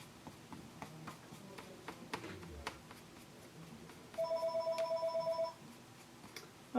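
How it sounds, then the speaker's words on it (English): A telephone in a home rings once, an electronic trilling tone lasting over a second, heard over faint tapping from a painting session with a brush on a bird and cherry blossom picture. "every time I turn the camera on, the phone starts to ring"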